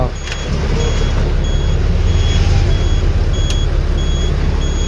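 A vehicle's engine idles with its handbrake on and lights off, a loud steady low rumble heard from close by, with a couple of brief higher beeps or clicks over it.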